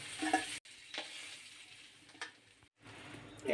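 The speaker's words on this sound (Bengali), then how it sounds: "তেল গরম হয়েছে এখন আমি মাছগুলো ভেজে নেব" Fish frying in hot mustard oil in a kitchen, a soft, fairly faint sizzle with stirring scrapes, broken by two brief silent gaps.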